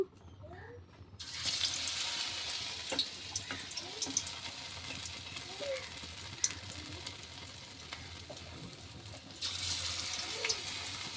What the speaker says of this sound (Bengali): বেসনে সেই বাটারটা লাগিয়ে এখন আমি এইভাবে ভেজে নেব